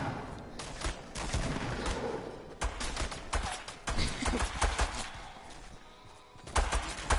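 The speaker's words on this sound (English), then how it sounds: "These guys are trying to shoot me." Enemies in a video game fire guns in dense, rapid bursts, with overlapping shots and sharp cracks. The gunfire is loud and continuous, rising and falling in intensity, with no voices.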